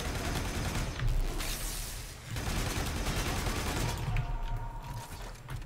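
Rapid sustained gunfire in Warframe, loud and dense with mechanical clatter and brief dips, shooting through walls, continuous for several seconds without voices.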